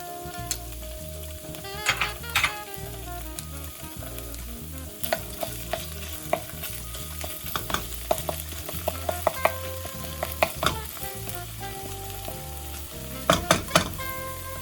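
Garlic sizzling in a little oil in a pan for pasta and meatballs: a steady, close frying crackle runs throughout under a low rumbling hum, with scattered sharper pops and spatula scrapes, clustering louder near the end, no voices.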